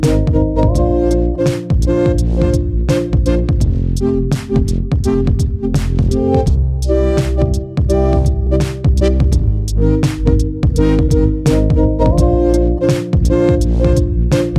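A full music mix run through a vintage LA-2 style optical compressor in Logic Pro X, playing loud and dense with steady drum hits and sustained tonal layers throughout, evenly levelled with no talking.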